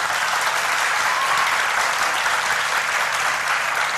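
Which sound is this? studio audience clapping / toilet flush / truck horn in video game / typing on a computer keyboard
studio audience clapping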